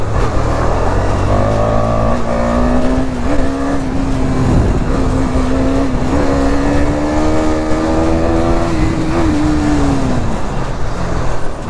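A KTM Duke 250 motorcycle engine hums steadily while riding, its pitch slowly climbing and dipping under constant wind and road roar, close and sustained throughout.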